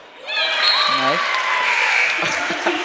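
A student crowd roars and cheers after a made free throw at a Lexington High vs. Winchester boys varsity basketball game, a sustained loud wall of voices with a prominent whooping shout rising above it.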